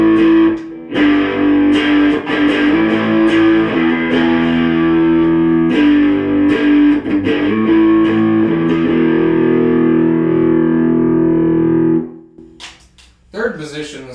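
An electric guitar with its pickup selector in the second position, blending two pickups, plays a run of sustained distorted chords that ring out loudly and then fade to near silence near the end.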